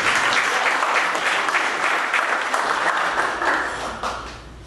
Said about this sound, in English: So let's give an applause to the staff.